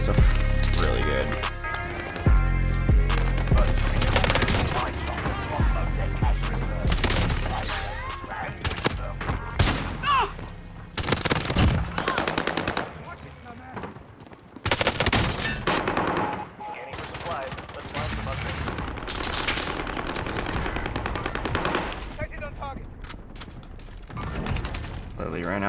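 Rapid automatic fire from a GRAU 556 assault rifle in the Warzone battle royale shooter, loud sustained bursts broken by short pauses, mixed with mechanical reload clicks and game effects.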